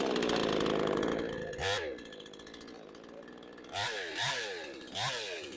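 A Proyama 68cc gas chainsaw revs and cuts down trees, its engine whine rising and falling in several bursts as it bites into wood.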